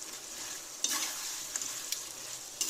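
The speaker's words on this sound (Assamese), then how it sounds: "আৰু এতিয়া ভালকৈ গোটেইখিনি মছলাখিনিৰ লগত আকৌ 2 মিনিটমান হাই ফ্লেমতে ভাজি ল'ম" Mutton and onions frying on high flame with cumin, chilli and mutton masala paste give a steady close sizzle, broken by a few sharp scrapes of stirring, with no voices.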